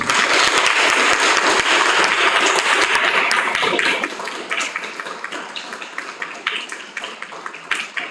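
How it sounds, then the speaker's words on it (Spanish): A lecture audience applauds the professor after a talk on Shakespeare, loud dense clapping at first that thins out about halfway into scattered, quieter claps trailing off. "a dar un aplauso porque estuvo muy bueno"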